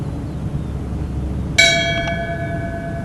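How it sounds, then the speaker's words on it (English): A single memorial bell struck once in tribute during a Village of New Lenox ceremony, ringing out clearly with a sharp strike and a long, bright decaying tone over a low background hum. "the bell in tribute and in memory for all deceased employees and deceased elected officials and other personnel of the Village of New Lenox"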